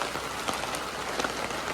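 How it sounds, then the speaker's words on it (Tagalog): Steady rain pattering on a surface, a dense even hiss with occasional heavier drops, no voices. "Ulan-ulan po ngayon."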